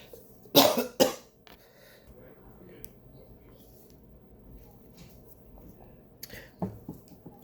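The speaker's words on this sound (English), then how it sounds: "so I'm still dealing with my cough" A couple of sharp, close coughs in quick succession, followed by quiet rustling and another faint cough later.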